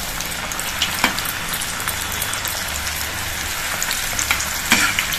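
Semolina mathri dough frying in hot oil, a dense, even crackling sizzle like steady rain, with occasional clicks of a ladle stirring.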